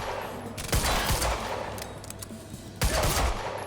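Automatic gunfire in Quantum Break crackles in sustained bursts, a steady rattling volley with a couple of heavier shots, fairly loud and close with no talking.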